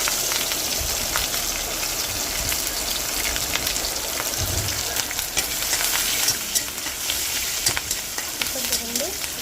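Potato pieces fry in a Telugu-style tempering of chana dal, mustard seeds, green chillies, garlic, ginger, curry leaves and dried red chilli for potato upma curry, giving a steady, close, crackling sizzle throughout with no talking.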